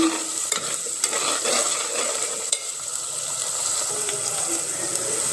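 Green chillies and curry leaves sizzle steadily in hot oil in a frying pan while being stirred, with occasional clicks of the spoon against the pan, close and continuous.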